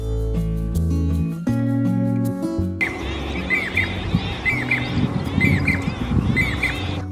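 A Jacobin cuckoo calls in repeated short, bright phrases at a steady rhythm, fairly clear against outdoor background noise, after a stretch of loud low musical tones.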